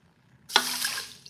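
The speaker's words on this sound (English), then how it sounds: "And then you wanna add 1 cup water" Water poured from a tap or container onto rinsed rice in a pot, a short steady splashing rush that starts abruptly and continues close and moderately loud, with no talking.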